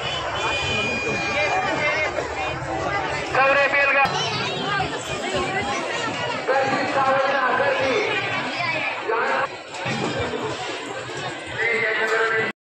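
Crowd of pilgrims thronging a Mahashivratri temple festival, a loud mass of overlapping voices and chatter close by, rising and falling in waves, with occasional sharper calls cutting through.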